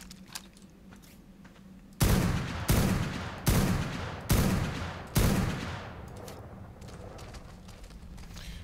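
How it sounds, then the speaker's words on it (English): Five loud gunfire bursts from guns fired in a video game lava cave, each a sharp onset with a trailing decay, spaced about a second apart over a low steady hum. "We'll fire off a ton of rounds and that'll loosen it"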